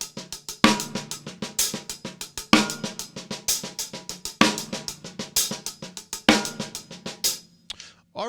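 A drum kit plays a double paradiddle groove with a snare rimshot backbeat: rapid, even sticking punctuated by sharp, loud cracks at regular intervals, close and dry.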